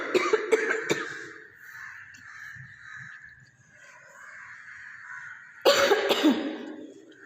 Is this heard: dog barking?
no